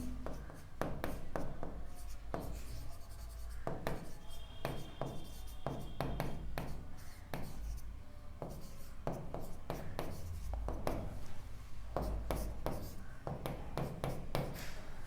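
Pen or chalk writing out a profit sharing ratio by hand in an arithmetic lesson, a steady run of scratchy strokes and taps, with a teacher speaking Hindi over it.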